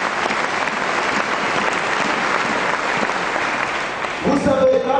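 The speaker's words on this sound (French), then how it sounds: "Est-ce que tu peux acclamer le Seigneur?" A church congregation bursts into sustained, dense applause to acclaim the Lord, loud and steady throughout, with a few voices rising near the end.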